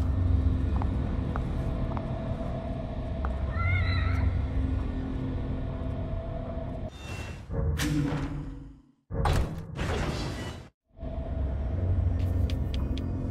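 A cat in the video game The Evil Within meows in a short run of faint mewing calls early on, under a steady rumbling game ambience broken later by loud harsh bursts.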